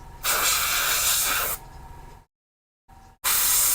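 An airbrush spraying paint onto a model gives a steady close hiss in two bursts, a quieter leak between them and a brief silent gap before the spray resumes loudly.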